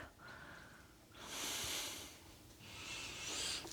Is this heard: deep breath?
yes